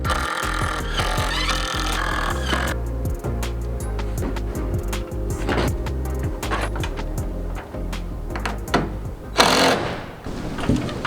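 A power drill whirs in short stuttering bursts as a screw is driven into a chicken coop trim board, close and fairly loud, followed by handling knocks and a brief rustle.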